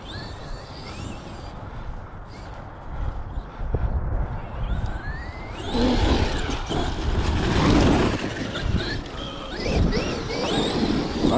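Traxxas XRT electric RC truck on Sledgehammer tyres driving across grass, its motor whine rising and falling in pitch over a steady rough rumble of tyres and outdoor wind, growing louder and closer about halfway through.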